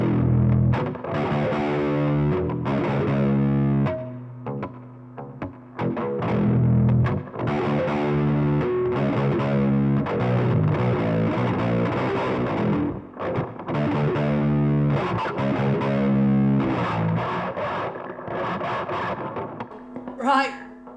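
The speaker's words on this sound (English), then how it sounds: "let's go wild and stack the overdrive on top of the crunch distortion." Ukulele played through an overdrive pedal stacked on a crunch distortion pedal, thick fuzzy sustained chords and riffs with heavy saturation, loud and continuous, pausing briefly midway and ending with a short squeal.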